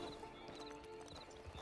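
Horse hooves clip-clop steadily at close range, with a neigh or whinny rising briefly over the hoofbeats and no talk.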